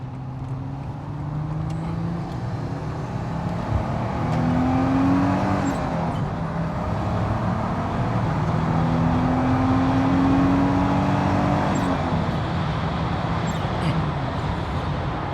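A Venturi 221 Cup sports car engine revs up as the car accelerates, pitch rising through the gears, loud and close as if heard from inside the cabin.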